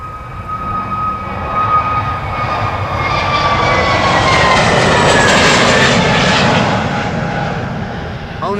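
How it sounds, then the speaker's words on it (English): An airplane roars past the Polderbaan runway at Amsterdam Schiphol, a loud, broad engine rumble with a whining tone that swells toward the middle and then slowly recedes. "Last airplane of today's show."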